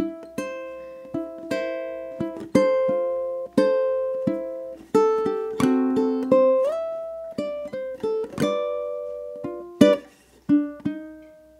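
Bright plucked ukulele strings play Scott Joplin's ragtime tune The Entertainer, lively and syncopated, notes ringing briefly in a steady bouncing rhythm, close and unaccompanied.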